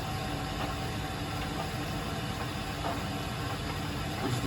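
A Weil McLain WM97+ boiler's blower runs at high speed, a steady broadband whoosh with a constant low drone and faint tonal whine, unchanging throughout and with no talk.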